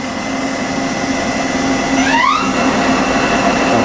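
A 1995 Makino MC-86 four-axis CNC horizontal machining center spindle runs at speed, a loud steady whine and hum that rises in pitch midway as it shifts up, with no talk.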